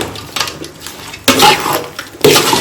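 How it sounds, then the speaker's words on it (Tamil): Rooster masala being stirred in a cooking pan for Chettinad country-chicken varuval, with bursts of scraping and clattering at the metal pan and a steady sizzling wash between strokes. "மலை சாரல் மாதிரி மசாலாவை தேவையான போட்டு நல்லா கிண்டி விடணும்"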